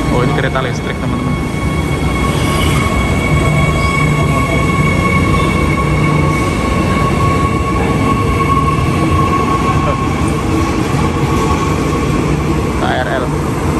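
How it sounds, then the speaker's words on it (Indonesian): KRL electric commuter train at Lempuyangan station in Yogyakarta, a loud, steady rumble and hum of a train moving close by throughout, with faint talk buried beneath it. "Oh, ini kereta listrik, teman-teman."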